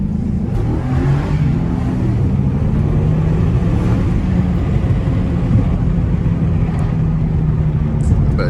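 A car with a 345 Hemi engine drives fast on a rough road, its engine a steady loud drone with road rumble throughout, heard from inside the cabin.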